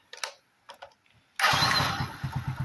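Bajaj CT125 motorcycle fitted with a Rouser 13LS CDI, heard first with a few faint clicks, then a kick-start as the engine fires and settles into a close, steady, thumping single-cylinder idle.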